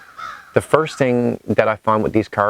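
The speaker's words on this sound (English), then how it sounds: "There's a bird chirping here somewhere." A crow caws repeatedly in the background while someone talks steadily over it, the calls partly masked by his voice.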